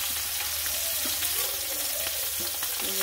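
Fish frying in oil in a home kitchen, a steady soft sizzle with a few stirring clinks, continuous and close throughout.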